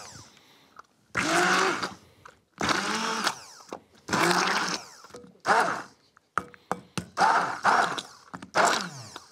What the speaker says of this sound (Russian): Вот теперь мне удобнее будет измельчить авокадо с помощью блендера.